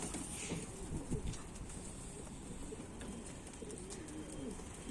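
Pigeons coo softly and repeatedly at a distance over a steady outdoor background, with no wingbeats clearly standing out.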